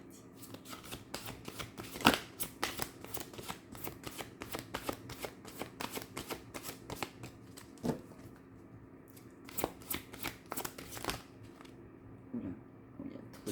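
Oracle cards being shuffled by hand, a dense run of quick papery riffles and flicks close up, with a couple of sharper card slaps, steady throughout with no talking.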